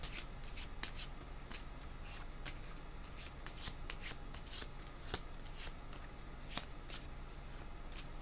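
Tarot cards are shuffled by hand in a quiet room, a steady run of soft, crisp riffling and slapping card sounds close to the microphone with no talking.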